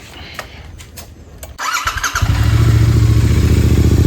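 A motorcycle parked for a couple of days and recently fitted with a new filter starts up nearby with a brief crank, then settles into a loud, steady idle.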